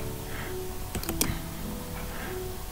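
A few sharp key clicks from typing on a computer keyboard while entering values in ArchiCAD door settings, clustered briefly near the middle over a steady low background hum.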